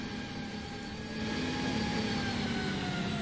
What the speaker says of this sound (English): Oh, the trains are already arriving, by the way.